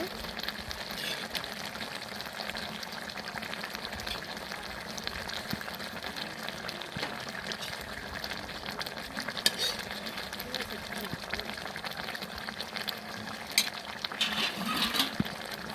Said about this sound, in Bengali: এখানে আম্মু মাছগুলো দিয়ে দিচ্ছে।